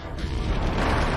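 Boom of a petrol fuel tank exploding on a WWI British Mk.V tank, a dense, rumbling blast sustained at steady loudness for about a second with no sharp attack.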